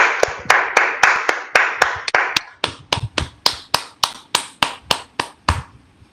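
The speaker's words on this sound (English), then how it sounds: "give a thumping round of applause to Sandeep" Sharp, close claps come through in an online meeting at a steady beat, about two per second, over a softer wash of scattered applause that thins out partway through.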